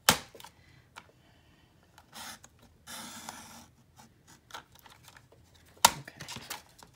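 A paper cutter trims card for a Stamperia Voyages Fantastique mini album, giving sharp clicks, a short scraping slide and a loud snap near the end, close and quiet between sounds.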